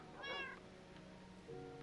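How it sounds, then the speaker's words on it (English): Cat in Minecraft meowing twice, a bright drawn-out meow followed after a pause by a shorter, lower one, close and clear over a faint steady hum. "Pepito the cat."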